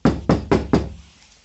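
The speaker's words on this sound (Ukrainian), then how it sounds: "Так, зашумлена дверка, а так не зашумлена." Four firm knocks on a Ford Scorpio car door, evenly spaced, each a dull thud; the soundproofed door panel gives a deadened, short knock with little ring, heard close and alone.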